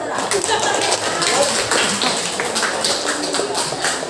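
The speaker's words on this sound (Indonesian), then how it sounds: "Tepuk tangan." Classmates clapping in a school lesson on the Qur'an and Hadith, a dense scatter of claps filling the room with chatter and voices mixed in throughout.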